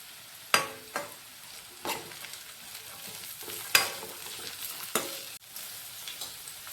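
Finely chopped beans and carrots with green chillies stir-fried in a pan for veg fried rice, steady sizzling broken by several sharp scraping stirs of a spatula, close and clear.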